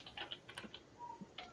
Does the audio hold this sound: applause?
no